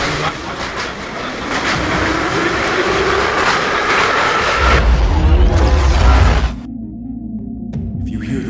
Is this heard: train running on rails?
yes